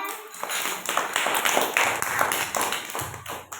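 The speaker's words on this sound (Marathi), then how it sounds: "टाळ्या वाजवा" Children in a village primary school classroom clap together in a steady burst of many quick hand claps lasting several seconds, fairly close and loud, with faint voices mixed in.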